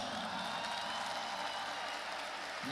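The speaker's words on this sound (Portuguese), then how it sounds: "Parabéns, aplaudam-se." Audience applause at a Brazilian lecture hall talk, a steady broadband wash of many hands clapping with some crowd cheering, sustained and even throughout, no voices over it.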